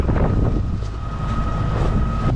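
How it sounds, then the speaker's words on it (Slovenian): Wind buffets a sailboat at sea in a Maldives atoll, a steady rushing roar with low rumbling wash and a faint sustained tonal hum throughout, no voices. "Valovi, veter, ok, da je veter me ne moti"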